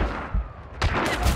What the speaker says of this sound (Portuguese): Dei dois tiros e não matei.